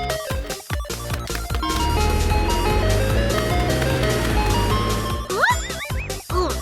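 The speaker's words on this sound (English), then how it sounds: "The ice cream truck was passing through the neighborhood." An ice cream truck's jingle drifts through a cartoon Bluey neighbourhood, a loud, busy melodic tune with layered chimes, ending in quick rising swoops and bouncy notes as the truck passes.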